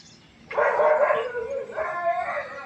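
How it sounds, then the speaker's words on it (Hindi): A dog at a house in a village howls and barks at a stranger in two sustained, loud, wavering cries, one after the other, close by. "ये कुत्ते को कोई नया बंदा दिखाई देता है तो वो चिल्लाता है"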